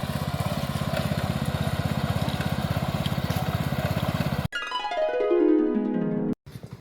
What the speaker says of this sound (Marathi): आणि इकडे आधुनिक पद्धत ट्रॅक्टर।